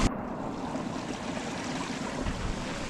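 Rainwater draining off a rooftop during a typhoon in the Philippines, a steady close rushing and splashing wash of water that runs continuously without any talk.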